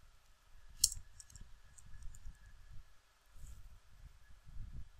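Soft, sparse keyboard clicks come in short irregular bursts as a command is typed, quiet and close against a hushed background.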